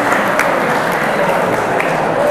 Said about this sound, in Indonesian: Berikan aplaus dulu untuk teman kita ya.